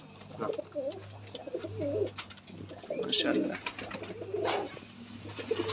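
Giribaz pigeons at a Rajshahi pigeon farm coo repeatedly in soft, rolling phrases, close by over a steady low background hum with faint scattered noises.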